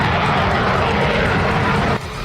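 A Russian Su-34 fighter jet roars in a loud, steady, broadband rush of engine noise that dips slightly near the end, with no voices present.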